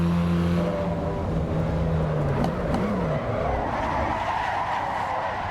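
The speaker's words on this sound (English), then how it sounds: "There it is, that lift off oversteer." Car tires skid and squeal as the car slides into lift-off oversteer in the Assetto Corsa Evo racing sim, a steady engine drone underneath and a rising screech that lasts several seconds.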